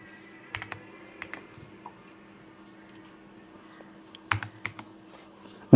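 Keys are tapped on a computer keyboard in short, sparse clusters of clicks with long pauses between them, close and quiet over a faint steady hum.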